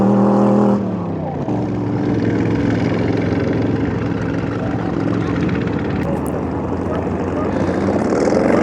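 A vintage American hot rod numbered 619 roars past on the sand at Pendine beach in Wales, a loud, sustained engine drone with a gear change, heard from a distance with people talking over it.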